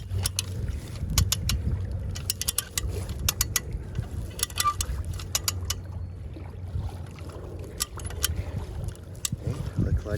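A handle is cranked to pull-test a PWC sand spike anchor outdoors, producing a series of quick repeated clicking ratchet ticks close by over low rumbling wind noise.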